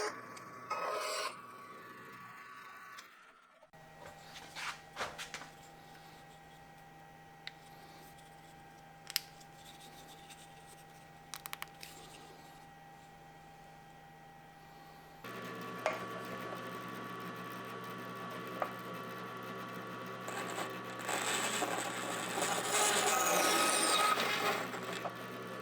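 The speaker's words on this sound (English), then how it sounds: "Now we'll trim all the excess material off the plug and the pocket" Excess wood being trimmed off a V-carve inlay plug and pocket, with continuous rasping, scraping cuts and scattered sharp ticks, growing louder and busier toward the end, with steady background hum.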